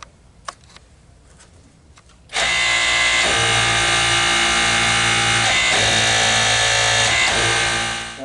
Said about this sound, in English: as I hit the button on the pump, I'm going to be hitting the green button to make the wrench go forward